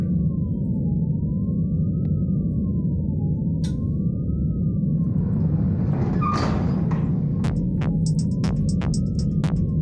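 A police siren from a Cyberpunk RED tabletop game soundset wails in a slow rising and falling sweep over a loud, throbbing low hum, with scattered sharp electronic clicks and bursts layered in near the end.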